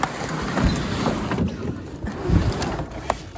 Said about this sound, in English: Hope you enjoyed the boat ride